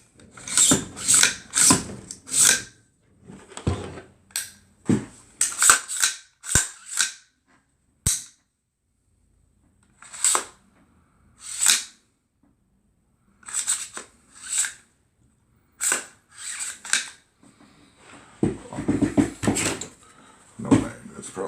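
An AR-15 rifle is handled up close, with a long run of sharp metallic clacks and snaps from the bolt and parts locking into place, some in quick bursts and others spaced out by brief pauses.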